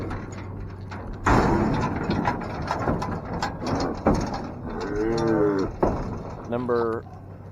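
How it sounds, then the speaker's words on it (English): Cattle on a farm pasture moo several times near and loud, with long lowing calls over a rattling, mechanical background from a livestock trailer. "Cows checking them out."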